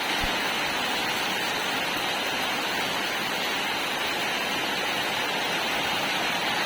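Heavy rain falls during a typhoon, a dense, steady hiss that holds unchanged throughout, with no voices.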